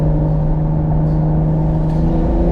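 A BMW X3 M or M340i engine hums steadily with a low, even drone from inside the car, loud and constant throughout with no talk.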